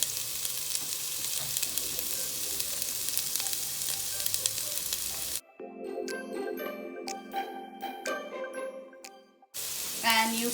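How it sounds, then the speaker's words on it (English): Diced onions hit hot oil while cooking Goan beef roast, giving a loud, dense sizzle that drops away midway into quieter frying with bright chiming tinkles, then surges back to a full hiss at the end. "So once the oil is hot enough, we add the onions."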